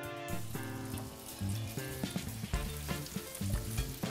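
Fish steaks and vegetables sizzle in a cast iron pan on an outdoor grill, a steady close crackle with irregular pops and spits, no voices.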